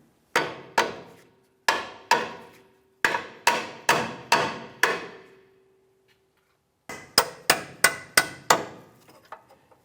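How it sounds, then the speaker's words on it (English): A hammer strikes a bolt in quick groups of sharp, ringing blows, each decaying briefly, with a pause mid-way before another rapid run of hits, driving it out of a 2002-2005 Ford Explorer lower control arm. "now let's use our hammer"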